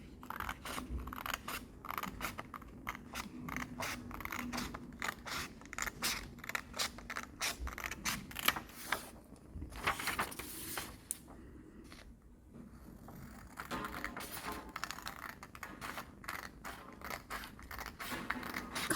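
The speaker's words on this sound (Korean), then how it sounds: "가위질 연습도 힘을 주어가면서 하면" Scissors cut paper along a drawn line in steady, repeated snips, close and crisp, continuing with brief pauses throughout.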